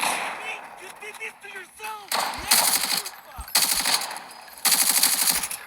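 Gunfire in the Arena Breakout shooter game: several sharp automatic bursts of rifle fire, loud and close, separated by short gaps, with faint chirping sounds early on.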